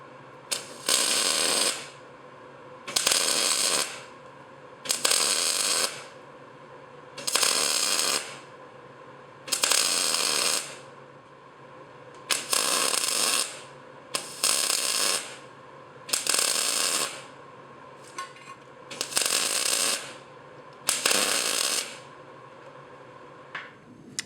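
Arc welding around a round T joint, heard as a series of about ten crackling bursts each lasting a second or so, separated by short pauses, loud and close with no voices.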